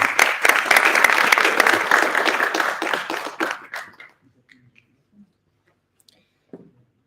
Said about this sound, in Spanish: Noelia Vanega, Rincón de la Bolsa, San José, adelante, un aplauso.